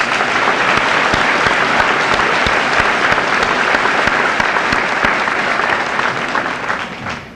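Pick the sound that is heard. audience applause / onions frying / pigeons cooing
audience applause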